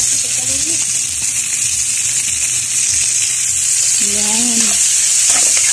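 Meat sizzles and is stirred in a hot pan with garlic, a steady loud frying hiss with scraping stirs, while a voice speaks briefly over the cooking.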